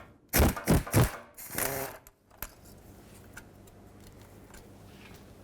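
A ratchet loosens driveshaft bolts on a 2001-2007 Toyota Highlander, giving a few loud close bursts of metallic clicking, a sharp clank, then faint scattered ticks.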